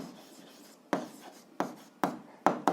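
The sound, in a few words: pen writing an answer on paper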